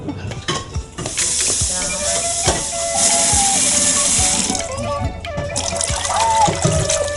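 Pea soup cooking for lunch in a campsite kitchen on a Croatian island, with steady sizzling and bubbling under scattered clinks and scrapes of stirring, close and moderately loud.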